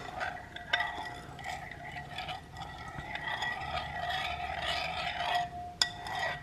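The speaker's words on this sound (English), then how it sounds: "Okay, so here it is out of the microwave. I'm going to give it a stir." A spoon clinks and scrapes softly around a bowl of tomato soup just out of the microwave, a few light taps among quiet rubbing, close and fairly faint, with no voices.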